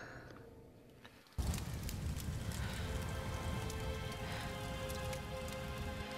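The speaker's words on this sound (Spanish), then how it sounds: "Obviamente tenemos que esperar que pase la lluvia. La tormenta, más bien dicho." Rain storm in the video game Tomb Raider (2013), a steady, loud downpour of pattering raindrops that begins abruptly after a quieter opening and keeps a dense, even hiss throughout.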